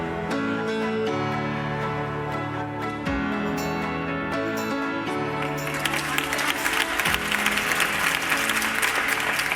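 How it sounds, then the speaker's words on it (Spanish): A crowd applauds steadily over a tonal musical background, the clapping growing louder and denser in the second half. "Un fuerte aplauso para los finalistas."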